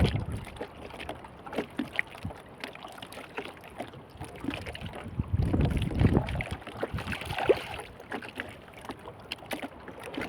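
Strong wind at sea batters a small fishing boat off the Philippines during handline fishing, a continuous rough roar of gusts buffeting the microphone with water sloshing against the hull, swelling louder midway.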